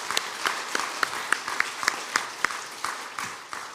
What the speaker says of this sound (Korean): 한번 힘찬 박수를 보내주시면 고맙겠습니다